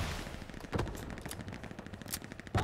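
Gunfire in the World War II shooter Hell Let Loose, scattered distant rifle and machine-gun shots cracking irregularly, a couple of louder nearer reports standing out among fainter bursts.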